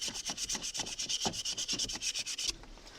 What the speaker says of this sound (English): So just keep on sanding.